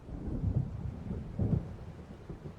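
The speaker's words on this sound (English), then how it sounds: "It seems there's a storm coming." Deep thunder from a storm in the video game Alan Wake Remastered rolls in two heavy low rumbles over a continuous wash of rain, with no voices.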